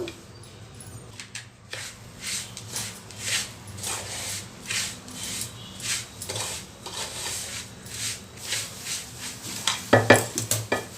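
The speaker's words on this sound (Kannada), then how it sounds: "ಕ್ಯಾರೆಟ್ ತುರಿ ಕೊತ್ತಂಬರಿ ಸೊಪ್ಪು ಹಾಕಿ ಚೆನ್ನಾಗಿ ಮಿಕ್ಸ್ ಮಾಡಬೇಕು" Rava being mixed with grated carrot and coriander leaves in a pan off the heat for rava idli: close, repeated scraping and rustling stirring strokes with occasional light clinks of the spoon against the pan.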